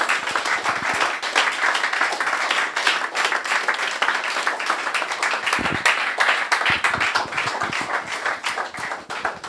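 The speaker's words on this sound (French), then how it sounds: "nous allons applaudir le Seigneur pour notre sœur" A church congregation applauding during a worship service: sustained, lively clapping from many people, crisp and continuous throughout, with scattered sharper claps and no speech.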